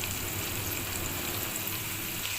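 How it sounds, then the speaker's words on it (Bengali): Eggs fry in a pan of vegetable bhaji, giving a steady, even sizzle that holds at a constant moderate level throughout, with no voices over it. "এখন আমাদের ডিমটা একটু ফ্রাই হয়ে গেছে, বাদামি কালার হয়ে গেছে"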